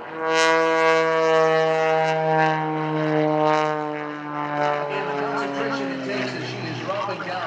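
An aerobatic propeller airplane at an airshow roars loud and steady overhead, its engine drone holding strong then shifting in pitch as it passes, with a voice talking over it.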